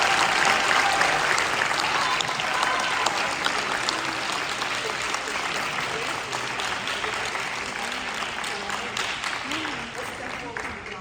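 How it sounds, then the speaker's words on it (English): Audience applause at a Los Angeles County honoring ceremony, steady dense clapping from a large crowd lasting the whole stretch and slowly thinning toward the end, with voices faintly mixed in. "Please give her a round of applause."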